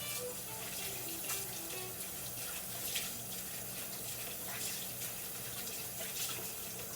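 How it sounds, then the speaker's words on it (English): A hand rinsed under a running kitchen tap while making deviled eggs, a steady, faint rush of water into the sink with no voices over it. "Let me just rinse my hand here."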